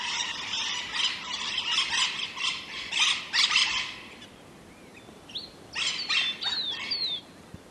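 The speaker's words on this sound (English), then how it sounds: "just wanted to share these parrots, the birds that are in the trees this morning." Parrots call from trees in the morning at a secluded bush campsite in Western Australia, with bursts of harsh squawks and screeches, then a lull and more calls nearby.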